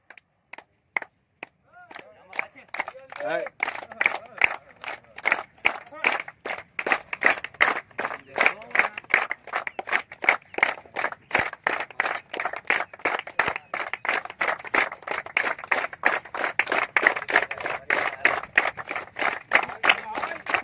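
A group claps in a steady rhythm during police recruitment physical training, sharp rapid claps sounding one after another for about twenty seconds, with faint voices and shouts mixed in near the start.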